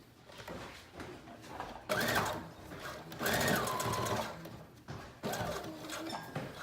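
A sewing machine runs a long seam on a one-shoulder dress with elastic, whirring in three close, steady bursts separated by short pauses.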